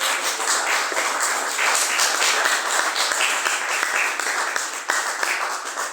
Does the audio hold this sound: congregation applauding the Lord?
yes